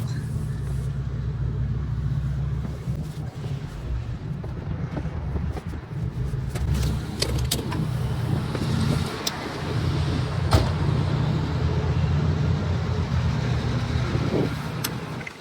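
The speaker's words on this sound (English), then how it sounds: "Gonna drive it around in a circle." A 36-year-old Nissan BE-1 driving around in a circle, a steady low engine rumble with road noise and occasional knocks or clunks, moderately close, without speech.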